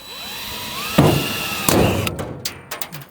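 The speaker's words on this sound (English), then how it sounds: "Well, that's the end of that drill bit." A power drill whines up to speed and bites into material with a worn drill bit, giving a couple of strained bursts and then sputtering, choppy pulses as it winds down, close and loud.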